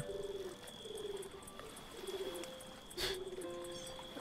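A pigeon in a video game coos in repeated soft, throaty phrases, fairly close and clear, over a faint steady tone with a brief louder rustle midway.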